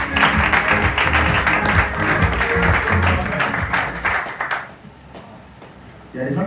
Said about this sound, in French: On applaudit pour Ray Bouty, s'il vous plaît